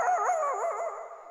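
A man imitates a dog running to bite, a short run of yipping, whining dog-like vocal sounds with wavering pitch, close and clear, lasting just over a second.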